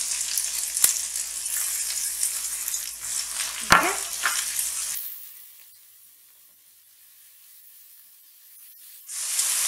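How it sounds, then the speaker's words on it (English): Ginger and garlic fry in hot oil with a loud, steady sizzle, broken by a clatter of stirring, then the hiss drops away to near silence before sizzling rises again. "I'm going to add ginger in here, like this,"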